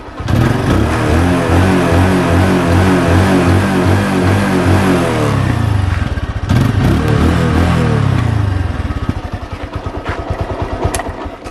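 A serviced motorcycle engine is revved hard and close, holding a loud, even, rising and falling roar that settles toward a lumpy, pulsing idle near the end. There is no talk over the engine.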